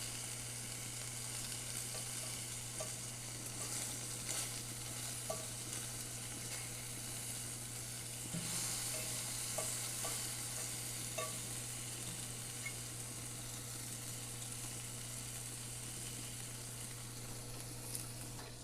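Eggs frying in a pan on a homemade rocket stove outdoors, a soft steady sizzle with occasional faint pops and scrapes over a constant low hum, fairly quiet and unbroken for a long stretch.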